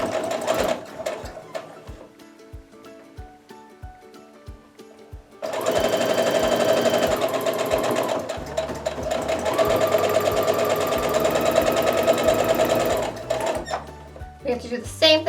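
A sewing machine stitches a regular 1/4 inch seam on a quilt block in a quick, rhythmic clatter, slow at first, then running fast and steady, with a voice speaking over it.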